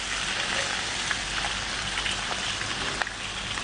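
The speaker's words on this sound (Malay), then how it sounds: "kita goreng dulu tulang-tulangnya" Steady, dense sizzling of fish bones frying in hot oil in a pan, with occasional louder pops and crackles.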